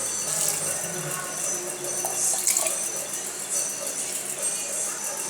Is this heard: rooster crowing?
no